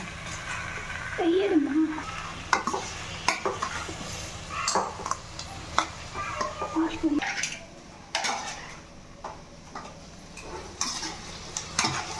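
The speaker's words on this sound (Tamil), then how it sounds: "நல்லா கிண்டி விடுங்க" A spoon scrapes and stirs spices and tomatoes in a pan over a quiet sizzle of frying for chicken biryani, with clinks of metal now and then and a voice talking.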